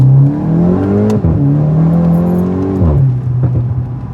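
A 2024 VW GTI MK8 with a muffler delete pulls hard in first gear, its loud, close engine note climbing steadily in pitch, dipping briefly mid-pull and settling lower near the end.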